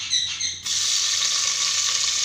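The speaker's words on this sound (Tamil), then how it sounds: "இப்போது வெங்காயத்தை சேர்த்துக்கலாம்." Onions go into hot ghee already holding cinnamon, cardamom and cloves for beef biryani. A short clatter comes first, then a loud, even hiss of frying that continues to the end, close up and without voices.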